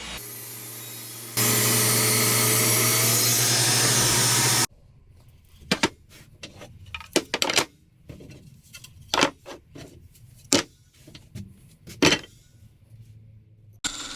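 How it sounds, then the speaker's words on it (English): A table saw rips hackberry wood into strips, giving a loud, steady whine for a few seconds. Quieter scattered knocks and scraping of wood being handled follow. "we're just getting our strips cut on the table saw, starting with the hackberry"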